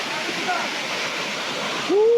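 Kinapuin Falls at Calawis, Antipolo roars in a loud, steady wash of falling water, with a brief voice rising over it near the end.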